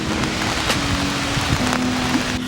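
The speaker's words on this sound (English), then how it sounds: "Look at that waterfall just come down." Icelandic waterfall seen from close by near Reykjavik, a steady broadband roar of falling water filling the whole clip with a constant wash and some low rumble, no voices.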